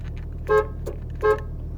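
A 1996 Jeep Cherokee sounds two short, loud honks of its horn a moment apart, over a low, steady background hum.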